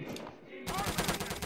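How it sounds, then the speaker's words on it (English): A machine gun fires in the World War II shooter Return to Castle Wolfenstein, a rapid burst of sharp, close shots that starts abruptly partway through after a brief quieter moment. "Alright, machine gun out. Not the Thompson."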